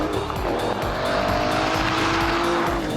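Aston Martin DBS V12 sliding its rear out under power, with tires squealing in a rising, sustained screech over a loud, continuous engine roar for the whole stretch.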